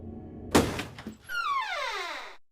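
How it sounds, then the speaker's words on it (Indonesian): A toilet door is forced open in a horror film, one heavy thunk followed by a lighter knock, then a long descending eerie whoosh fading out. "Saat pintu didobrak"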